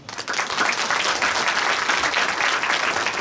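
An audience at a spiritual lecture claps together in a steady, dense burst of applause that holds for a few seconds, with no talking over it.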